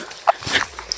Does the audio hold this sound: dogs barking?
yes